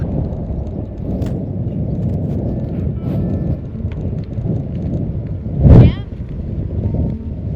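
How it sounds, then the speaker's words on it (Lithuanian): Strong crosswind buffets the microphone during a bicycle tour in the Balkans, a steady loud low roar throughout with one sharper gust surge near the end, no talking heard. "Labai stiprus šoninis vėjas."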